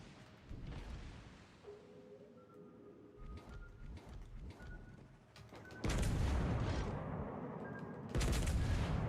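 Naval guns fire in the World of Warships Legends video game, with deep booming salvos that roll into heavy, sustained blasts, loud and close, under a low mechanical hum.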